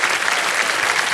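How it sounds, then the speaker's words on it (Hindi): A TV quiz-show studio audience applauds in a dense, even burst of clapping, brief and loud throughout. "बहुत सारी तालियां बज गई आपके लिए"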